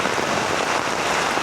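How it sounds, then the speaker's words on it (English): Heavy rain pours steadily and loudly onto surfaces in Da Nang, Vietnam, during storm Wutip, a dense, unbroken close wash of drops with no voices. "To see it's raining non-stop, but no flooding."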